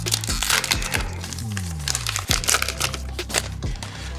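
A 2021 Topps Archives baseball card pack is torn open up close, with loud foil crinkling, sharp tearing bursts and scattered crackles through a few busy seconds.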